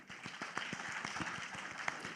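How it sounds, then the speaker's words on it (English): Audience at an investment summit in Bangladesh gives a brief round of applause, faint and somewhat distant, with scattered claps. "So big round of applause for Uber,"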